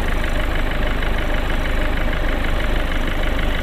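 A Peugeot 1.6 HDi diesel engine, worn and burning oil, idles in a loud, steady close-up rumble with a fast, even clatter and no talking.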